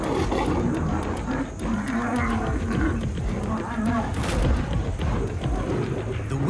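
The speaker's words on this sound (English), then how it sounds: "Lions can roar at 114 decibels." Two male lions fight in the wild, their deep roars and snarls rising loud and close over continuous rumbling, growling struggle, with a brief sharp burst near the end.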